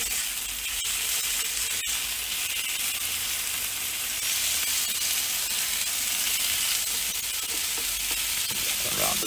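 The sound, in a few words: burgers sizzling on a black wattle charcoal grill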